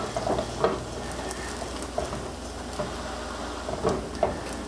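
Bread pressed into hot garlic and oil fries with a steady, close sizzle and crackle, with occasional louder pops and spatters throughout.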